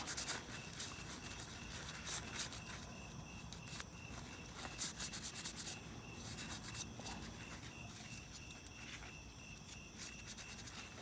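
Close, continuous rubbing and light scraping sounds of a paper towel wiping a BMW mass air flow sensor gasket, with faint crinkles over a quiet background hum.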